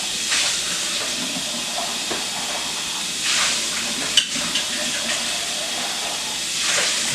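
Running water rinsing out a kitchen container: a soft, continuous hiss and splash with a few louder gushes and a brief clunk partway through, fairly quiet and without talk.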